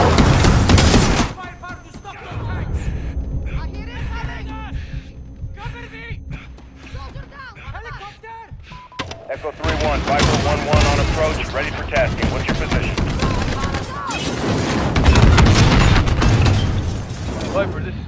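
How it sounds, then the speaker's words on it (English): Game battle from Modern Warfare set at an airfield hangar with troops on the tarmac: dense bursts of automatic gunfire and explosive booms, loud and sustained, mixed with shouted voices and radio chatter throughout. "taking fire from troops on the tarmac"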